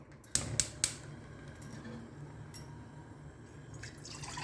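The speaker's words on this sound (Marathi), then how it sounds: "मी प्रथम गॅस चालू करते" Three sharp clicks in quick succession, like a gas stove igniter, followed by a low steady hiss and faint background hum.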